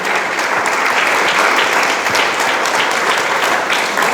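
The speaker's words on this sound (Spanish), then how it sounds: "Dele palmas al Señor" A church congregation claps loudly and continuously during a sermon, a dense, energetic wall of applause that holds steady throughout.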